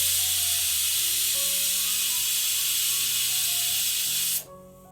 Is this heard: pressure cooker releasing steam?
yes